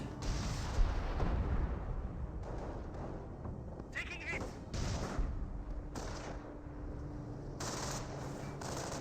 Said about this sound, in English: Another barrage there trying to take out the Pack 38.